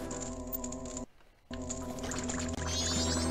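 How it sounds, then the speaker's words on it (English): Water splashing down from the ceiling in the Zelda game Majora's Mask, a continuous rushing, bubbling cascade with a tonal game hum, cut briefly by a short gap before resuming loudly. "that is the sound of the water splashing down"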